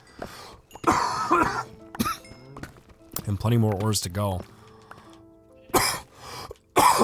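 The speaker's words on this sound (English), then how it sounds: "I'm trying to cough away from the microphone" A few sharp coughs and throat clearing bursts, close by, scattered between stretches of someone talking.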